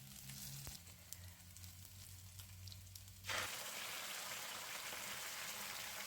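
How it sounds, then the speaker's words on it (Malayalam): Ground paste added to a pan of sizzling fenugreek seeds and onions for fenugreek curry: a low steady sizzle suddenly jumps to a loud, dense crackling hiss that continues, close, with no speech. "ഇനി അരപ്പ് ചേർത്ത് കൊടുക്കാം."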